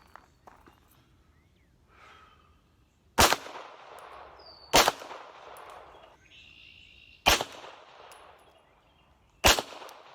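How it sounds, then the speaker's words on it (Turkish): Four loud unsuppressed gunshots, two with normal rounds and two with subsonic rounds, ring out a couple of seconds apart, each with a ringing echo trailing off, after quiet rustling. "iki tane normal, iki tane de subsonik mermi atacağım"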